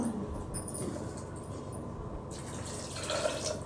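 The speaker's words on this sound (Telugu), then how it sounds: "కొద్దిగా నీళ్ళు పోసుకోవాలా." A little water is poured into a pressure cooker holding soaked lentils, a soft, close trickle and splash that runs for a few seconds and grows slightly louder near the end.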